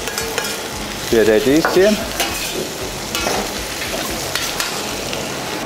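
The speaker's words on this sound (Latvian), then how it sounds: "mēs pamaisam, un tad šo te anšovu pētersilu sviestu mēs pieliekam" Radishes being stirred in a frying pan with anchovy parsley butter, giving a steady soft sizzle with scraping utensil strokes and a brief louder burst of stirring partway through; a voice speaks briefly.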